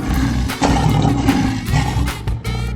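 A cartoon lion roars in an animal slide video game, a loud, sustained growling roar over continuous game music and effects, rising and falling across the whole stretch.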